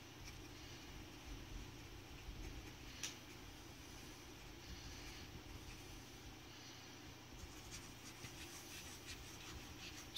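A Noodler's Ahab flex fountain pen writing on paper, a faint, steady scratching of the nib heard close up against a quiet background hiss, with no talking.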